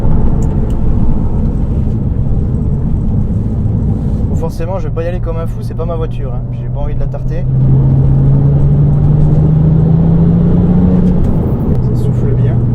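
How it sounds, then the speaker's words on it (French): Porsche 911 996 Turbo engine revving while driving, a loud steady rumble that climbs in pitch as the revs build. Someone talks over the engine partway through. "tu commences à entendre un peu le moteur derrière qui commence un peu à s'exciter"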